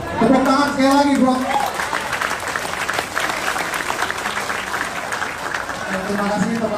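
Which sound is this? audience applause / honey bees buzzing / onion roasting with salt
audience applause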